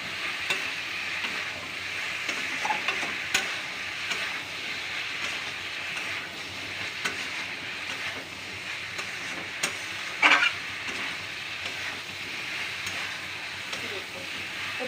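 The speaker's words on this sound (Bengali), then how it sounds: "এবার এটাকে আমি মিশিয়ে নেব।" Chili powder spice mix being stirred in a pan, a continuous frying sizzle with scraping spoon strokes and one sharp metallic knock near the end, no speech.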